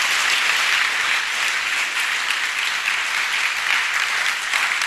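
An audience gathered for a church service breaks into dense, sustained applause, many hands clapping together loudly and evenly for the full stretch.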